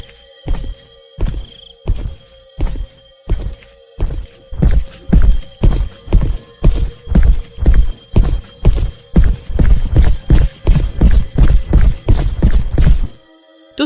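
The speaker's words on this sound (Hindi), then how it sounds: "अब सुषमा को पैरों की आहट ज्यादा आने लगी थी।" Heavy footsteps thud in a steady, accelerating rhythm, starting spaced out and growing quicker and denser, loud and close with a hard, hollow knock like hooves on a solid floor, no voices.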